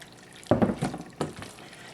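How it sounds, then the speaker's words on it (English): Pasta water poured into a thick mac and cheese sauce, a close, splashy burst of liquid followed by a second shorter pour, with quiet gaps between. "We can just add a little bit of the pasta water."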